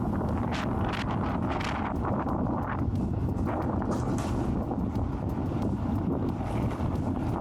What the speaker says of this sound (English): It's been incredibly windy this entire trip.